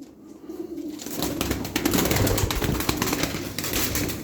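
Tumbler pigeon wings flap in rapid, clattering bursts close by, swelling louder midway and continuing through the rest, with outdoor background noise.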